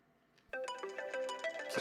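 A phone ringtone starts suddenly and plays a bright, quick melodic pattern of tones. It is close and moderately loud, with no voices over it.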